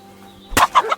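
A chicken in the video game Kingdom Come: Deliverance II lets out a quick burst of three or four loud, close clucks in fast succession, with no voices over it.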